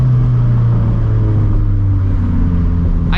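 A 400hp turbocharged FRS pulls hard, its engine note climbing steadily in a loud, close, rising drone with strong rumbling low end, running continuously without voices.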